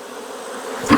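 Honey bees buzzing as they are shaken off a hive frame during a July hive check, a steady close insect drone that swells into a louder burst near the end.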